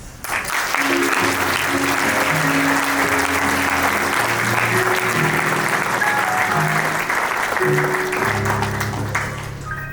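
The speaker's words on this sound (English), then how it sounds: "How about another round of applause for the 2022 Monroe County Sports Hall of Fame inductees." Sustained, loud audience applause fills a hall for the 2022 Monroe County Sports Hall of Fame inductees, with faint tonal sounds running underneath.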